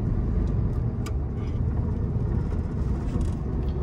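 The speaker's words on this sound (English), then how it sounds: "Got the 1500cc air-cooled motor, and this thing is just a breeze to drive." A 1967 VW Beetle with a 1500cc air-cooled engine and four-speed manual, heard from inside while driving: a steady, low engine drone and road rumble that stays constant throughout, with no talking.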